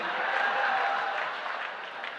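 Audience at a Hindi comedy poetry gathering (hasya kavi sammelan) clapping steadily throughout, a dense, fairly close applause that tapers slightly toward the end.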